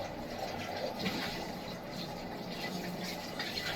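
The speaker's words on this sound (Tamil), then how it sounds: "அதில் தண்ணி இருக்குது அதையும் கொஞ்சம் ஊற்றிடுவோம்" Water pours steadily into a pressure cooker, a soft continuous splashing and gurgle, fairly quiet and close.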